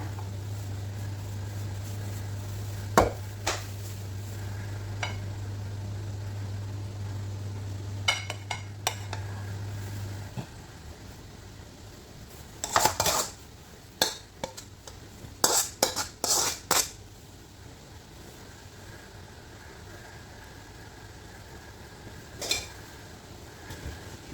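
Chinese noodles are tipped from a pan onto a serving plate, with a low steady hum for the first ten seconds, then scattered clinks and scraping knocks of utensil against pan and plate, no talking.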